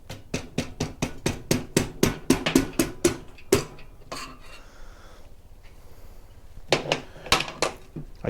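Rapid series of sharp taps from a plastic hammer, a dozen or more in quick rhythm, then a pause and a few more taps; close and fairly loud.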